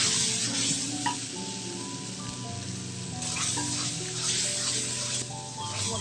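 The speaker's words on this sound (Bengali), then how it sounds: "মশলাটা ভালো করে কষিয়ে নিই।" Spice paste of chili powder and turmeric fries in a pan with a steady bright sizzle, stirred throughout with faint scraping, close and fairly quiet.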